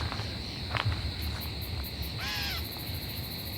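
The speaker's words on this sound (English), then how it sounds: "I think it's the bush katydid." A faint, steady bush katydid buzz hums over outdoor ambience, with a short bird call in the middle and soft rustling underneath.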